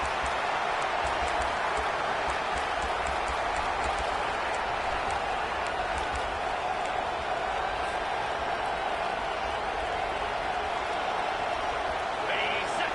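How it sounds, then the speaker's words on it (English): A stadium crowd in an American football video game cheers steadily in a dense, continuous roar, with no break for the whole stretch. "This crowd knows when to bring it."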